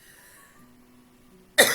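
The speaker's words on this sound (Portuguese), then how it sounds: "Você viu que tosse" A single sudden, loud cough breaks in close to the microphone at the very end, after a near-silent stretch with only a faint background hum.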